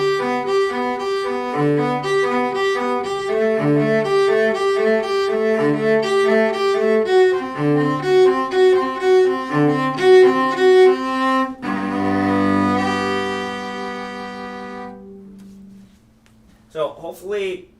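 A solo cello plays a flowing, continuous passage of steady arpeggiated notes from the Prelude of Bach's Cello Suite No. 1, ending on a long sustained chord that fades out.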